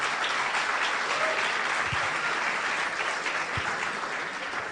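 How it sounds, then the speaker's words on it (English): Steady, dense applause from an audience at a Bitcoin and Ledger wallet event fills the whole clip at an even level, with no voices rising above it. "Big round of applause for him."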